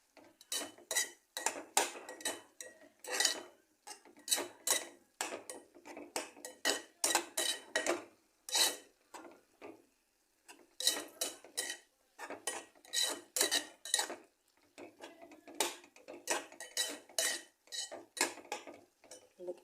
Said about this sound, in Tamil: போட்டு நல்லா 2 கிண்டு கிண்டுங்க ஃப்ரெண்ட்ஸ்.